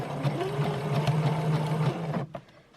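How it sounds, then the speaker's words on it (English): A sewing machine stitches ribbon onto socks with a steady, close motor whir and rapid needle clatter for about two seconds, then stops abruptly, leaving a few faint handling clicks. "I'm just going to go ahead and start stitching."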